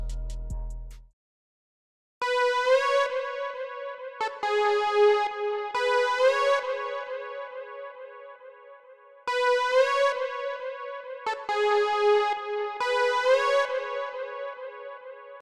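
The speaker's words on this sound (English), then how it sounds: "I'm using the Harvest lead from the Based One and Pilgrim Genesis 1-shot kit." A synth lead, the Harvest lead from a one-shot kit, plays a repeating bright melodic pattern of sustained, harmonically rich notes in phrases separated by short gaps, clean and alone after a brief low thump at the start.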